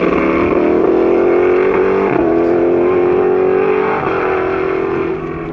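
A vintage Group C / IMSA GTP race car at a Sonoma racing event holds a loud, sustained engine drone close by, its pitch sliding slightly up and down, with no talk over it.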